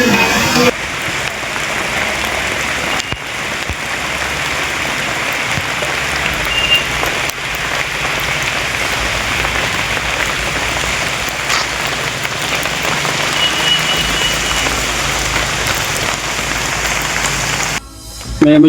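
Heavy rain pours down on a tribal weekly market, a loud, unbroken hiss of drops on surfaces that lasts throughout before cutting off abruptly near the end.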